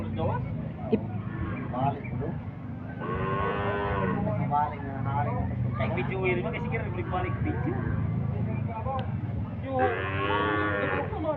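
Carabao, or water buffalo, at a stockyard in Bacong, giving long, loud, drawn-out moos, repeated twice alongside a steady background rumble and occasional voices.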